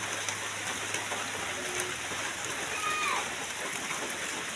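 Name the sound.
heavy rain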